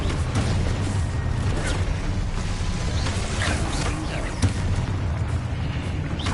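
A Confringo spell explodes in the video game Hogwarts Legacy: dense, loud booms and bursts over a steady rumbling game soundtrack, with sharper pops near the middle and no talk.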